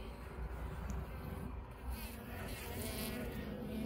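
Honey bees buzzing over a brood frame pulled from a hive during a spring inspection, a soft, steady humming drone close by, faint and continuous with no voices.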